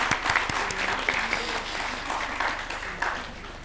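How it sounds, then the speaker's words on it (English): An audience at an academic technical session applauds the speakers and chair, a lively, dense clapping that stays fairly even throughout with a low background hum beneath. "Please, a round of applause."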